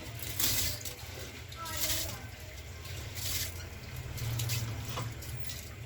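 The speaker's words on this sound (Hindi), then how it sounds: "अब इसमें मैं चावल डालूंगी।" Rice is poured into a pot of boiling water for chicken biryani, giving a continuous watery rush and bubbling with bursts of hissing, while someone talks over it.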